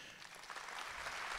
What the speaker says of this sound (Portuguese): Eu queria que você se aplaudisse.